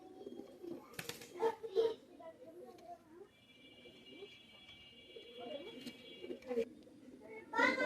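Oman Teddy pigeons of the cream-ice variety coo softly in repeated low bursts close by, while someone talks over and between the calls.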